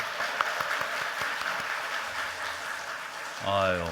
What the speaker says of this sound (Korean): 박수 한번 감사합니다